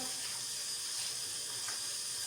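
Tap water runs steadily over raw liver, heart and lung pieces in a home kitchen sink, a continuous broadband splash with no talking.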